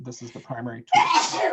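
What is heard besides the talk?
sneeze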